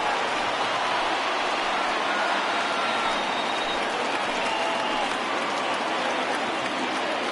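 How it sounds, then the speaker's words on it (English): A large stadium crowd at a baseball game fills the air with continuous cheering and applause, a dense, even roar of clapping and voices that holds for the whole stretch. "listen to this crowd now. They are really into this."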